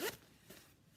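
A zipper on a fabric packing cube is pulled open in one quick, quiet rasp close by, followed by a faint rustle.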